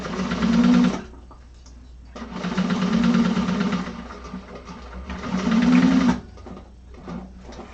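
A sewing machine stitches a handbag lining seam in three loud bursts of running, separated by short pauses, with faint talk in the gaps.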